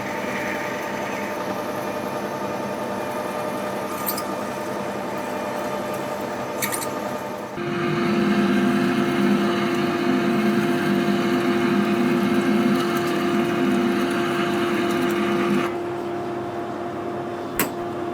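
A drill bores into a water pump pulley, a steady whining motor hum that shifts pitch and grows louder partway as the bit bites into the metal, close and continuous.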